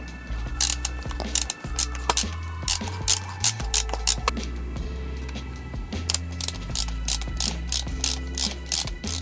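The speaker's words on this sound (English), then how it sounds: "Put these screws back into where they were before." A ratchet drives screws back in while a Tesla steering wheel is installed, giving steady rapid clicking in repeated bursts with short pauses, close and fairly loud.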